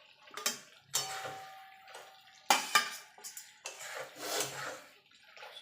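Potato pieces are added to a Bengali Shankar fish curry (kosha) in a pan. There are several separate clattering clinks of utensil against metal and soft stirring scrapes, close and fairly quiet, with no talking.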